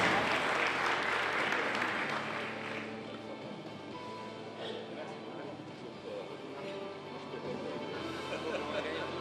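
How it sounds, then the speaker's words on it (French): Audience at a business innovation award ceremony applauds steadily, the clapping fairly faint and distant, strongest at the start and then settling into a softer continuous patter. "vous pouvez encore une fois les applaudir, mesdames et messieurs"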